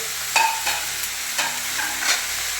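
Chopped mulberry leaves drop into a hot pan for a stir-fried thoran, with a steady close sizzle and a few sharp stirring scrapes spread across a couple of seconds.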